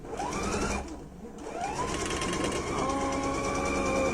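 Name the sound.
sewing machine stitching along a fold line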